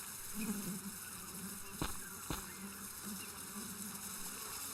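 Wasps drone in the point-and-click adventure game Jack Keane. A continuous, even buzz runs throughout, broken by two sharp clicks near the middle.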